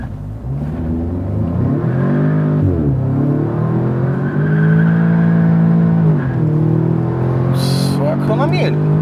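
An Audi S3, a used car, accelerating hard on slippery pavement with its tyres spinning: a loud, close engine roar climbs and falls through the gears without a break, and a few brief high squeals come near the end.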